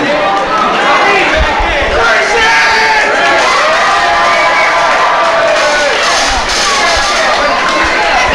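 Loud, steady crowd cheering and shouting at a live independent wrestling tag-team match, sustained throughout, with a commentator's voice talking over it.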